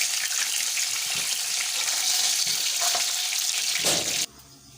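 Fish fries in a pan for a masala fish curry, giving a loud, steady hiss and crackle of bubbling oil that cuts off abruptly near the end, leaving only faint background noise.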